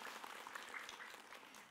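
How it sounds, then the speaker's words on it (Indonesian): A congregation in a studio audience claps during an Islamic religious program, giving a brief, faint burst of scattered applause with no voices. "Boleh tepuk tangannya jamaah."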